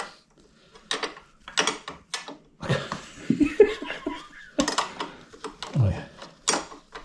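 A spanner ratchets and clicks while tightening a Tec sump guard on a Royal Enfield Interceptor 650 motorbike, coming in short irregular bursts of metallic clicking with brief pauses between, up close, with laughter and a little talk mixed in.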